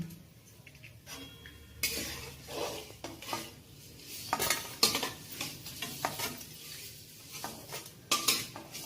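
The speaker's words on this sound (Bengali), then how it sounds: "পনিরগুলো ভাজা হয়ে গেল। এখন আমি তুলে নিই।" Metal utensils scrape and clink against a pan while fried paneer is lifted out of hot oil, over a steady sizzle of frying, with irregular knocks throughout.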